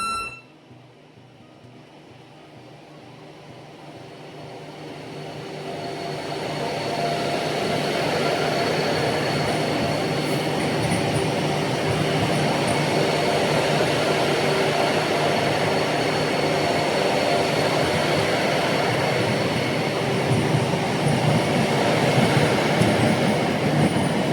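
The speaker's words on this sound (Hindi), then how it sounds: "वंदे भारत ट्रेन चलने के लिए तैयार खड़ी थी" A Vande Bharat train at New Jalpaiguri station builds from a faint start to a loud, steady rolling roar of wheels and carriages, sustained for a long stretch with no talk.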